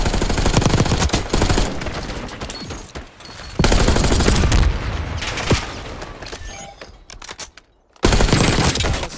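Dense gunfire from the Black Ops 6 beta multiplayer, bursts of automatic weapons and heavy booms filling the scene, with a brief lull before the shooting surges back loudly.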